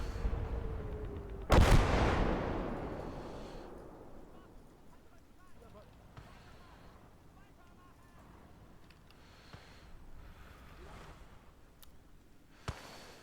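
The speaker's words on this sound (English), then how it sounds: "I'm going to come back, reload that, and just use artillery to smack these placements." Artillery fire in the Gates of Hell war game, one sharp heavy blast early on followed by a long rumbling decay, a lighter distant crack near the end, with someone talking over the battle ambience.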